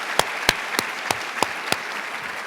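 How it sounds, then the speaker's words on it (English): An audience at a Smithsonian Associates conversation event applauds again, a steady moderate crowd clapping with a handful of sharper, louder claps standing out at roughly regular intervals. "if you could join me in giving her another round of applause"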